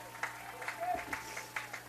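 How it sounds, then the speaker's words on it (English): Tampa baseball fans clapping in the stands at a 2023 NCAA Tournament game against Rollins, a few evenly spaced rhythmic claps heard faintly beneath a commentator's voice. "Gets the Tampa fans clapping."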